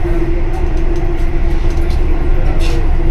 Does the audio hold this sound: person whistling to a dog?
no